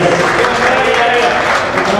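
An audience at a Memon community prize-distribution event applauds, a dense continuous wash of clapping heard alongside an announcer's voice.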